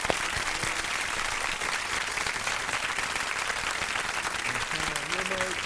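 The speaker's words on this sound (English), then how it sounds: "let us give her a proper round of applause" An audience applauds a storyteller at a live-streamed community event, steady dense clapping throughout, loud and full, with a faint voice briefly audible near the end.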